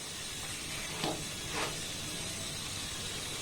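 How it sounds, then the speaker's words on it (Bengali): A thin flat snack of wheat flour and potato fries in a pan, producing a steady soft hiss of oil with two brief louder sizzling bursts as the piece is pressed or turned. "এইভাবে উল্টে পাল্টে একটু হালকা লাল লাল করে আমি ভেজে নেব"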